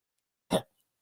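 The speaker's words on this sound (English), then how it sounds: "I have a lingering cough from COVID that I got years ago" A single short cough from an adult woman with a lingering post-COVID cough, one brief burst standing alone in an otherwise quiet indoor recording.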